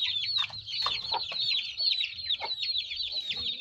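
Mother hen clucking at her chicks in a small coop, with rapid high peeping from the chicks running continuously and several lower clucks breaking through close by.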